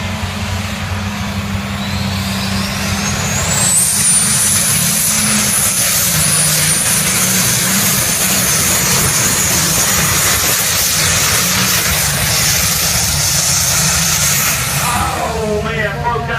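Pulling tractor in a class of ten at a tractor pull, driven by Michael Schultz, its engine roaring loud and steady throughout with a rising whine, filling the air close by.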